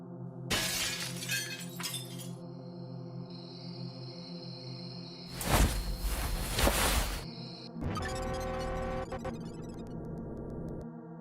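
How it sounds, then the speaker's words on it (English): Glass shattering in a Sonic analog horror piece, three loud bursts of breaking glass separated by gaps, set against a sustained droning, distorted tonal hum that runs throughout. "we hear the shattering of glass"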